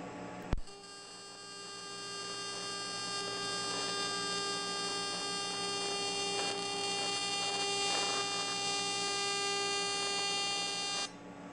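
A TIG welder set to 400 hertz hums steadily while brazing very small parts in a shop, a sustained buzzing tone with sharp start and stop, heard close and alone.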